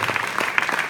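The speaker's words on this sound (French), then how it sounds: "on vous applaudit très très fort" Brief burst of audience applause at a ceremony, dense clapping throughout a single second, close and moderately loud.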